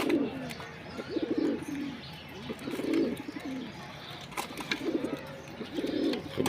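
Silver Bagha pigeons cooing in a loft, several soft repeated coo phrases in a steady rhythm with faint chirps of other birds behind them, close by and moderately quiet.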